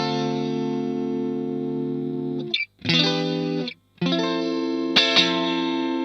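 Clean electric guitar chords through a 67 Blackface amp model on an Xsonic Xtone Pro ring out with sustained tone, two brief pauses, then a new chord and a few sharp plucked accents near the end.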